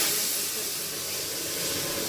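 Water poured into a hot pan while cooking a beef curry sizzles and hisses as steam, a continuous broad hiss holding steady for a couple of seconds.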